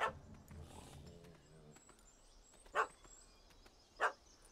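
A dog barks in The Witcher 3: Wild Hunt – Hearts of Stone, two sharp, distinct barks spaced about a second apart over a faint game ambience.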